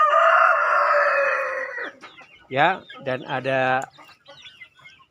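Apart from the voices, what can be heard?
young hens clucking in a chicken coop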